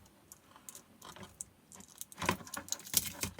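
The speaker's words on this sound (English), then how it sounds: "let's get all this tape off." Old, degraded sticky tape peeled off battery cells while recelling an NP1 battery pack: quiet crackly rustles and ticks that grow denser and louder toward the end, with no talking.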